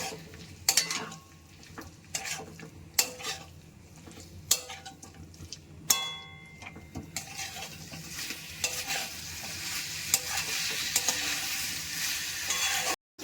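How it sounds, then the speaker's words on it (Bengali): Pre-fried potato pieces sautéing with spice paste in oil for a chhana curry, with repeated scraping spatula strokes and metal clatter against the pan over a constant close sizzle. "এবার আমি ভেজে রাখা আলু টুকরোগুলো দিয়ে দিচ্ছি আমি ভালো করে কষিয়ে নিচ্ছি"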